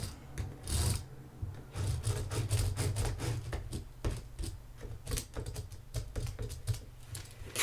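Fabric pen drawing a 4-inch square along a seam line on fabric for a jumbo tote bag: close, steady scratchy rubbing strokes in quick repeated bursts, with no talking.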